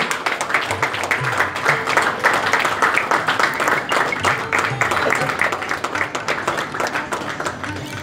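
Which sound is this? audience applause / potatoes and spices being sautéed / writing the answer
audience applause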